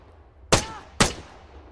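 Two sharp gunshot impacts striking a chest plate in a shooter video game, about half a second apart, loud and close over a quiet background.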